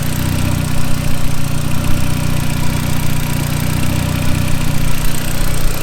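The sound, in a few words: Audi S3 engine idling, running without turbo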